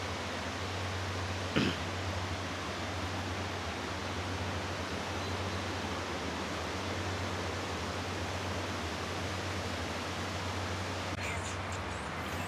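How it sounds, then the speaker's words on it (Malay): Steady broadband wash of sea waves at high tide on a beach campsite, continuous and even throughout with a brief small knock near the start, no voices. "Kalau dengar ada ombak,"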